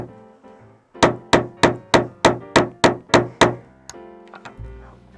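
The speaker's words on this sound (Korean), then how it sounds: "집에서 사용하는 그냥 일반 망치가 있으면 그걸로 좀 세게 박아주면 더 박혀 들어가요" Nails are hammered into a wooden board for a string art Christmas tree with an ordinary household hammer: nine sharp, evenly spaced blows in quick succession, close and loud, followed by a few softer taps.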